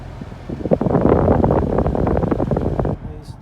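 A Toyota Prius cabin blower fan runs with a steady, breathy rush of air from the vents. The whoosh swells after a moment, holds for a few seconds, then drops off near the end.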